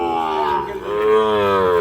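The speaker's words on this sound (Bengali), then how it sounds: "একেবারে সেরা মানের গরু কালেকশন করছে ওনারা" A bull or heifer calf at a cattle market lets out one long, loud, close moo with a rising and falling tone.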